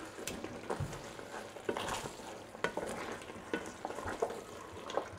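Korean galbi jjim, braised beef short ribs in gravy with melted butter, stirred gently in a pot: soft wet squelches and spoon scrapes in an irregular rhythm over a faint simmering sizzle, close up with no talking.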